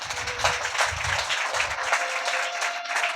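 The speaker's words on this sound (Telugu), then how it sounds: "గట్టిగా చప్పట్లు కొట్టు" A church congregation applauds loudly in a dense, steady wash of clapping that carries through the whole stretch without pause.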